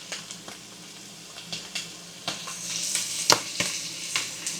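Sloppy joe meat fries in a pan with a steady close sizzle while flour is stirred in, punctuated by sharp scraping and tapping of the utensil.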